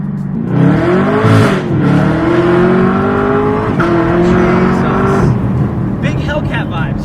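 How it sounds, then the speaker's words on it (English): Supercharged Chevrolet Camaro ZL1 engine revving loudly up close, its pitch rising and sweeping through a long pull, then settling before a second rise, with supercharger whine throughout. "This engine sounds better than the Hellcat engine."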